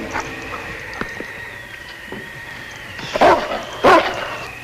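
King, a sled dog tracking a scent in the snowy Yukon, lets out two loud, close barks near the end, after softer yips and whimpers over a faint outdoor background.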